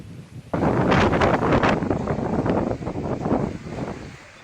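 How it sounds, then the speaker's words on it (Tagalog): Strong typhoon wind blows along the coast at Santa Ana, Cagayan, where the sea runs rough. It roars loud and continuous into the microphone, with buffeting gusts that swell and ease, and no voices are heard. "Malakas din ang hangin kaya maalon sa bayan ng Santa Ana."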